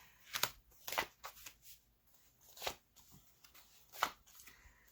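Tarot cards being shuffled by hand, a quiet riffle-and-slide texture in several short bursts separated by pauses, close and soft with no talking.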